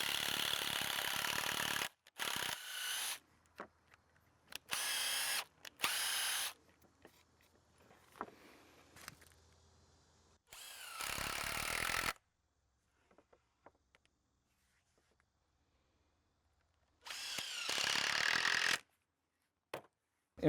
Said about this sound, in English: I'm going to take a screw and I'm going to run in and out of this hole twice to push all the junk out